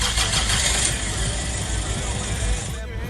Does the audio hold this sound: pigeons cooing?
no